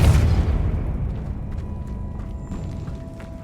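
A Depulso spell cast in Hogwarts Legacy lands as a loud booming burst at the very start, then rumbles and fades over a few seconds, with faint mechanical ticks in the tail.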